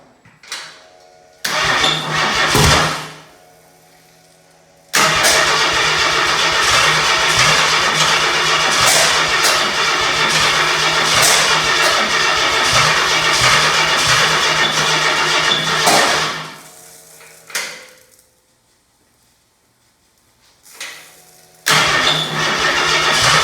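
Ford 300 inline-six with an LS head and ECM wiring harness from a 1999–2002 Chevy truck, cranking in short bursts, then catching and running loud and steady for about ten seconds before shutting off, followed by another brief crank.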